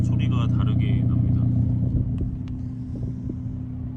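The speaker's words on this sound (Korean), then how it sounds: "스포츠 모드와 그냥 일반 모드 소리가 다르게 납니다." Steady low idle rumble from the variable exhaust of a Volvo S60 Polestar, close by and continuous, easing slightly in level halfway through, with someone speaking over it at the start.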